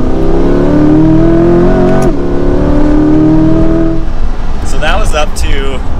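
A 2022 Chevrolet Corvette Stingray 2LT Z51 accelerates with a rising, steady engine note up to 80, then the pitch drops as it slows, loud and close, with talk over part of it.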